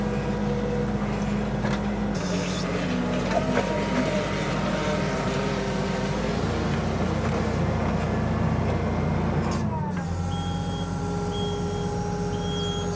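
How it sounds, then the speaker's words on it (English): A tractor-driven auger digs post holes through gravelly ground for a new farm shop, a loud, continuous engine drone with grinding churn, shifting pitch near the end as the load changes. "we're digging these holes about, we're basically burying the auger up to the bottom of the pumpkin"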